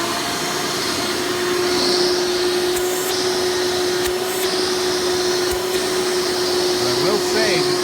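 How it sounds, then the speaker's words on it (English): Hoover Elite Supreme U5071-930 upright vacuum running in tool mode, a loud, steady motor roar with a sustained whine, close and unbroken for the whole stretch, with a few faint clicks and handling noises. "these are not known to have the best suction when running it in tool mode"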